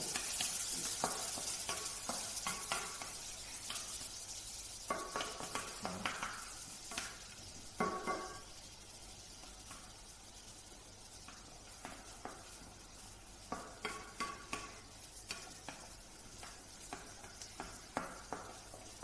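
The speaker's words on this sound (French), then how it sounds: "On va mettre nos échalotes qui vont se faire tout doucement, sans brûler surtout." Shallots gently sweating in melted butter in a pan, a soft, steady low sizzle with occasional stirring scrapes and clicks, quiet and close, no voices.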